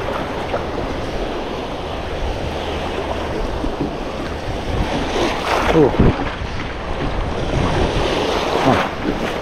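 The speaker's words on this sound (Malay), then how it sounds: "ombak." Sea waves wash along a coastal shore during daytime net fishing, a steady broadband rush of surf with gusty wind buffeting the microphone and a louder surge of breaking water midway.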